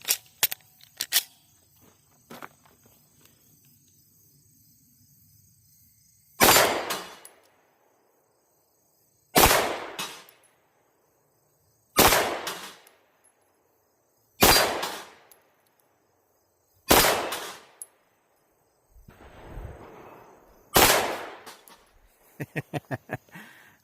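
Six pistol shots fired freehand with a red dot sight at 17-yard head targets outdoors, each a sharp loud crack with a short ringing decay, spaced a few seconds apart after some faint clicks.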